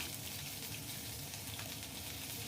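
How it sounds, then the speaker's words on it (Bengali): Ginger paste frying in hot oil for chana dal, giving a steady, hissing sizzle that stays even and close throughout, with no voices. "আদাটা ভালো করে একটু ভেজে নেব যাতে কাঁচা গন্ধটা চলে যায়"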